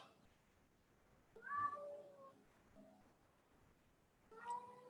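A pet cat shut out of the room meows from behind the door, two or three faint, muffled cries spaced over a few seconds in an otherwise quiet room.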